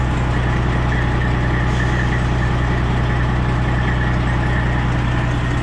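A truck engine with a fuel injector fault idles with a steady low rumble and faint rhythmic pulsing, running alone and close.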